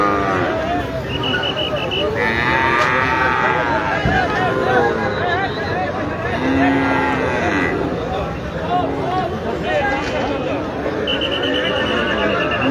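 Many cattle moo loudly and repeatedly at a large, crowded livestock market, over a constant babble of voices, with a horse-like whinny mixed in.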